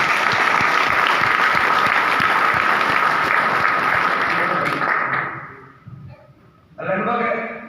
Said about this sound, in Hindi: तो एक बार रूपराम जी के लिए ताली बजा दीजिए।